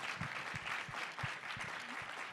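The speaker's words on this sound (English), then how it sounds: "So let's first give them a big round of applause." Quiet, distant applause from an audience after a panel discussion, a soft continuous patter with a few louder low thumps scattered through it.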